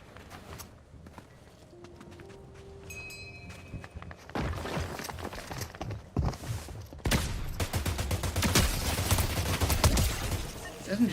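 SMG gunfire in the Fortnite video game, beginning quietly with scattered clicks and thuds, then breaking into loud, rapid bursts of shots that grow denser and more sustained toward the end.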